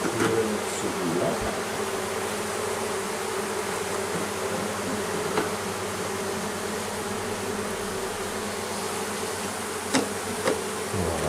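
Honeybees buzz steadily around a hive during a nucleus-to-hive transfer, a dense, continuous drone close up, with a few faint knocks and clicks of hive handling.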